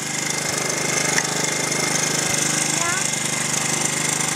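A 1978 Honda Z50 mini trail bike engine running nearby, a steady buzzing putter with a few soft bumps as the throttle is worked, loud and continuous, with faint voices mixed in.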